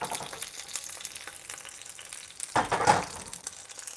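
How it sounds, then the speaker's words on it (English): Food sautéing with a little salt in a pan for agedashi tofu, a steady sizzle and frying crackle throughout that flares louder and brighter for a moment partway through, with no talking. "we're just going to saute these with a little bit of salt"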